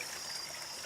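Water flowing through an overgrown creek, a brief, faint, steady trickling rush heard alone.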